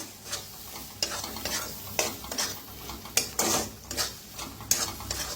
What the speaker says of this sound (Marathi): तर आता छान असं भाजून घेऊया।